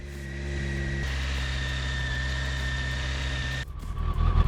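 An old Honda Blackbird motorcycle with a Code 25 fuel-injection fault runs with a steady, close, droning engine hum, then near the end the note shifts and grows rougher and more uneven.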